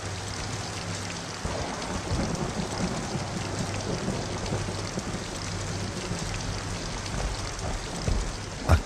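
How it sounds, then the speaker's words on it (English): Steady, constant rainfall hisses evenly throughout, close and moderately loud, with a low rumble beneath and a louder patter near the end. "As he sat, the rain fell constantly."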